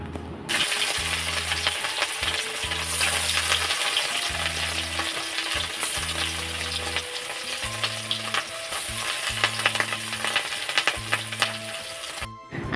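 Fish pieces fry in hot oil in a wok, a loud, steady, close sizzle and crackle running throughout, with faint clinks over a low repeating hum in the background.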